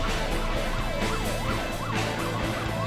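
Ambulance siren wailing through busy traffic, its rising and falling sweep repeating steadily and loud over a constant rumble of engines and road noise.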